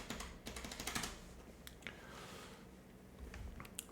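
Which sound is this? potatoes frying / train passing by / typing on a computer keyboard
typing on a computer keyboard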